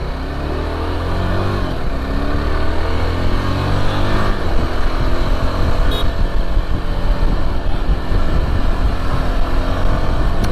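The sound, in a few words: Yezdi Adventure motorcycle on test drive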